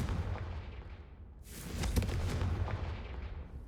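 A Confringo fire spell in Hogwarts Legacy fires partway through, a rushing blast that swells out of a low rumbling background and lingers for a couple of seconds, fairly faint overall.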